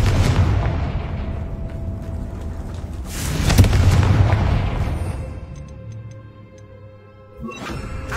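Confringo fire blast spell exploding in Hogwarts Legacy, with a loud boom around three and a half seconds that rolls off over several seconds amid crackling effects, then a second burst near the end.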